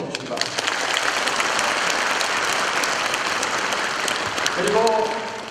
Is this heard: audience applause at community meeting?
yes